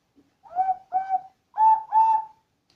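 A Ukrainian clay folk whistle (zozulytsia) plays four short hooting notes in two pairs, the later pair louder and slightly higher, clear and alone in quiet surroundings.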